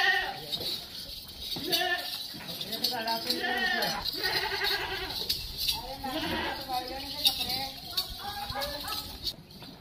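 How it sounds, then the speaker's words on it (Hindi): Goats bleat repeatedly as they leave their pen on a Beetal goat farm in the morning, with overlapping calls from several animals near and far, some hoof clatter, and people talking over them. "ये जी निकल रही हैं बकरियां।"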